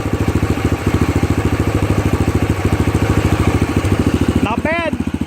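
A Yamaha TT500 motorcycle idles close by with an even, throbbing single-cylinder beat that holds steady throughout, a brief voice cutting in near the end.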